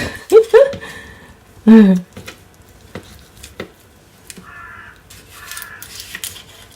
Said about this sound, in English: Do you guys hear those birds?